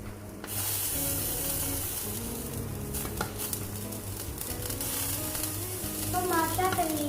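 Nargisi koftas sizzle and fry steadily in a pan, a continuous close crackle with some stirring and utensil clatter, faint voice-like tones rising near the end.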